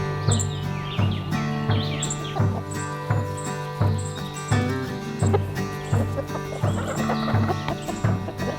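Chickens cluck and chirp without a break as they chase after a dead mouse outdoors on a homestead, with overlapping calls near by and a busy flock of rhythmic clucking throughout.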